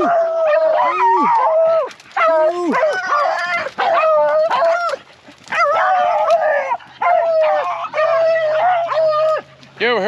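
Rabbit beagles bay and howl together during hunt training, a loud, near chorus of overlapping drawn-out howls and yips repeating in bursts with short pauses between.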